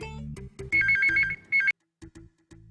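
A bright electronic phone ringtone plays in short repeating bursts, with a few clipped voices before and after.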